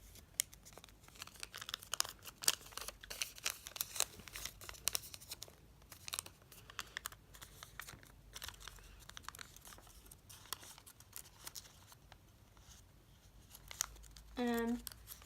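Paper for an origami model being creased and folded by hand, with repeated soft crinkling and crisp rustles throughout, fairly close, ending with a brief short vocal sound.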